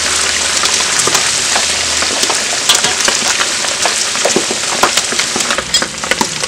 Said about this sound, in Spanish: Y media hora friendo en manteca